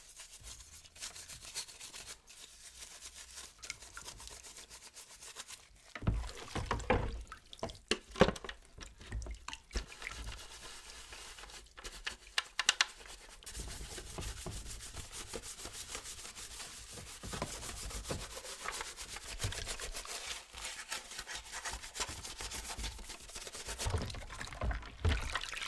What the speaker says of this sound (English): let's go back to these soap-soaked pieces. Give them a good scrub and see what we can do about this rust.